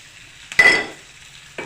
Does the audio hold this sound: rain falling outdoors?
no